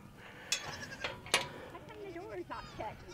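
Goats bleat on a livestock farm, a few short calls scattered across the clip while people talk nearby and a gate or door is handled.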